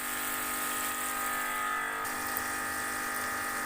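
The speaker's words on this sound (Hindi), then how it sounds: "तो अब हम इसके अंदर डालेंगे पानी।" Water streams steadily into a pot of matar gosht, a meat and pea curry, after the peas and spices have been sautéed, a continuous close hissing pour with no talk.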